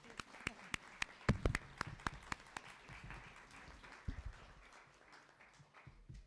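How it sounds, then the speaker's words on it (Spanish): Sparse, uneven clapping from a conference audience after a speaker, heard as distinct sharp claps spaced apart that thin out over a few seconds, quiet and somewhat distant. "pues un aplauso y muchas gracias, María"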